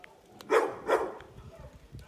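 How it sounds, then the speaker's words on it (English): A dog standing outdoors barks twice in quick succession at moderate distance, with faint background noise around it. "that dog is just standing out there barking at me"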